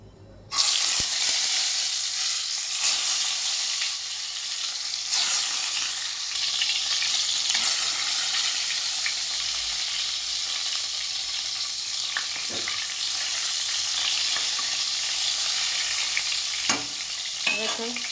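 Loud, continuous sizzling of eggplant slices frying in hot oil, with occasional soft clinks and scrapes from utensils throughout.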